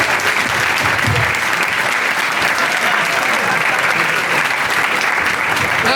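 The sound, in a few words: audience applause for comedian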